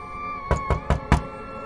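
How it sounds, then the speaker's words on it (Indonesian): Four firm knocks on a house door, evenly spaced and close, standing alone over a faint steady background hum in a quiet horror-story setting. "Aku melangkah mengetuk pintu rumah."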